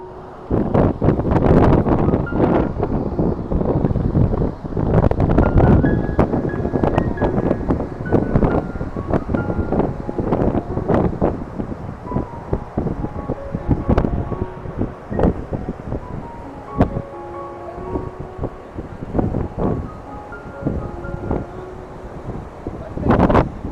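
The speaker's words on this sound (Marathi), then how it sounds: "वारा आणि पाऊस जोराचा आलेला आहे बघा आणि लाटा उसळलेल्या आहेत" Strong gusty wind roars and buffets the microphone throughout on a beach in monsoon rain, with faint voices and surging waves underneath.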